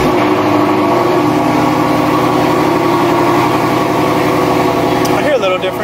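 2016 Mustang GT with a Whipple supercharger idling, a steady, loud low rumble close by with faint whine on top, a voice briefly heard near the end.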